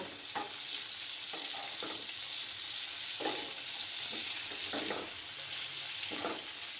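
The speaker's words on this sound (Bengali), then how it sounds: "বেগুনটাকে আমি একটু লাল লাল করে ভেজে নেব" Eggplant sizzles steadily in hot mustard oil in a pan, a constant close frying hiss broken by several short scraping stirs.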